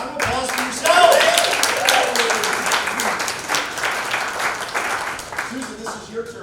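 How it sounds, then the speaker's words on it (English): Audience applause at the Cabin Fever Follies 2022 show, a crowd clapping steadily for several seconds with cheering voices mixed in, loudest near the start and fading gradually. "Round of applause for yourselves!"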